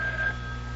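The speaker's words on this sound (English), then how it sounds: "The phone is ringing." Telephone ringing in an old radio drama: a steady electronic ring tone holds through the short moment, moderately loud against a low hum, with no voices.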